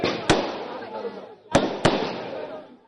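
Fireworks go off at a 2015 Bihar assembly election results celebration: three sharp, loud bangs, one early and two close together later, over a constant roar of crowd noise and voices.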